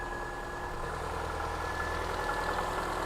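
A freshly started car engine idling with a steady mid-pitched drone and a faint rattly, clinky edge, constant and close with no voices.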